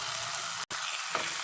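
Chicken fried rice with vegetables, chilli sauce and ground pepper sizzling steadily in a pan, a continuous close frying hiss broken by one very brief gap.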